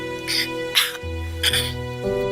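A sick mother coughs softly several times in short, separated bursts, close by, over a steady hum in an otherwise quiet room.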